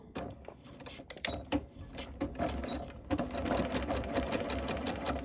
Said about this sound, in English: I've got my fabric on the machine ready with the right sides together, and then I need to sew just to the left of where the gathering stitches are.